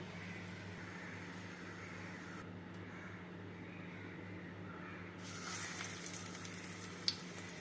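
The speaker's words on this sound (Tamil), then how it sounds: "இன்றைக்கி நம்ம வந்து ஷாலோ ஃப்ரை தான் பண்ண போகிறோம்." Vegetable cutlets shallow frying in oil, giving a soft, continuous sizzle with a low steady hum beneath and a slightly louder crackle toward the end.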